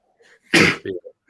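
A single loud sneeze close to the microphone, followed by a short breathy catch and a few faint murmurs.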